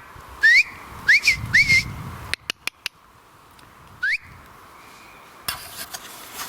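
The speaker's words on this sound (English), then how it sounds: "That's my new whistle. It works as well." A whistle is blown outdoors near an evergreen tree, with four short rising chirps, the first three in quick succession and one more after a pause, along with a few sharp clicks and a brief rustle.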